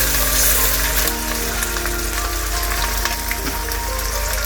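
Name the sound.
duck frying in pan with onion paste added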